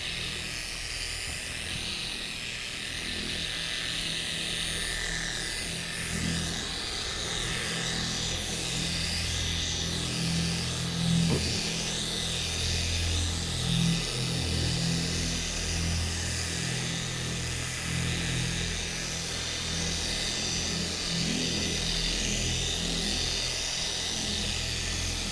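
A machine polisher runs at its slowest speed setting, spreading sealant over the hood of a silver Ferrari 575M Maranello, making a steady, even motor whir and buzz that continues unbroken for the whole stretch, heard close with no talk.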